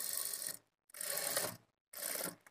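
A sewing machine runs stitches across a marked blouse front in three loud mechanical bursts of about half a second each. Short pauses separate the bursts, and no one speaks.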